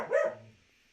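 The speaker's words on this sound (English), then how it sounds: "There's a dog barking out the back." A single short bark from a dog, faint and sounding off at a distance outside the house, quickly fading into quiet.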